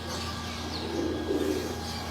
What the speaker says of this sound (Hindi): अब ये टैडी कबूतरी है।